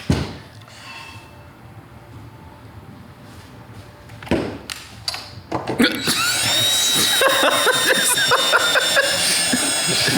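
A hand tap cuts threads into a hole while working on digital tail lights for a classic car, heard as a scraping, grinding sound that starts quiet and grows loud and steady over the second half, with clanks and bumps along the way.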